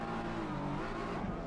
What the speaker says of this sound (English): Especially revving the engine stupidly.